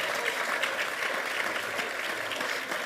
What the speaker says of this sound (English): Let's please give them all a huge round of applause.